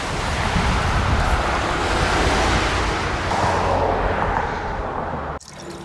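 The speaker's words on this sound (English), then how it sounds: "The water coming out of this artesian well is some of the most delicious I have ever tasted." Water gushes steadily from an artesian well in a town along a long-distance hiking trail, a loud, close, continuous rushing splash with no talk, briefly cut off near the end.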